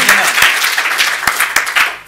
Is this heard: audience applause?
yes